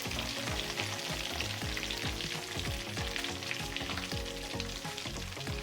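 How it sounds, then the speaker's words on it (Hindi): Chicken pieces fry in a pan of hot oil for a chicken tikka pulao, a dense close crackling sizzle with scattered pops and stirring scrapes, continuous and without talk. "चिकन हमारा अच्छे से फ्राई हो चुका है, ये देखें।"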